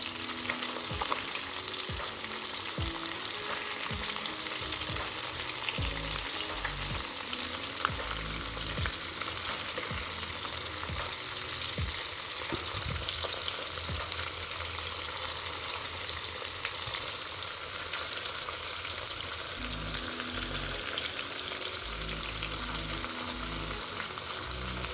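Chicken pieces frying in hot oil for ayam tangkap: a steady, close, continuous sizzle and crackle with occasional stirring clinks, and no voices.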